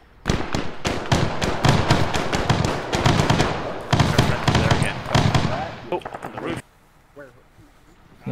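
Rapid bursts of gunfire and sharp blasts from a war video game battle, loud and dense for several seconds before cutting off abruptly into quiet, with voices talking over the action.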